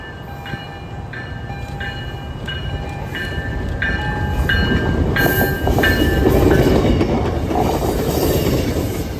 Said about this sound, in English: Here's a very frustrating MBTA inbound departing Wilmington as its next stop would be Anderson Woburn